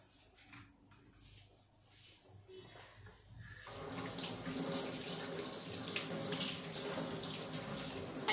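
A kitchen tap turns on partway through, and water runs steadily into a sink as hands are washed. A few quiet handling noises come before it, and the rushing flow stays close and constant until the end.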